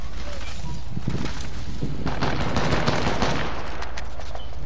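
Rapid bursts of gunfire crackle through a video game shootout, dense and continuous over a rushing, wind-like background.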